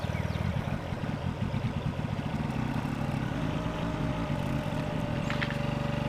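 A motorcycle engine running with no air filter idles close by with a steady, rhythmic chugging and clatter, loud and continuous, with no talk.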